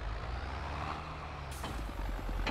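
Lorry truck in the Farming Simulator 22 video game, a low rumbling drive with a hiss partway through, followed by regular rhythmic beeps, fairly close and steady.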